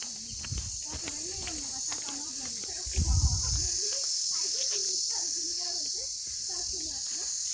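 Insects chirp in a steady high buzz near rice fields, with someone talking over it and a few footsteps and a brief thump nearby.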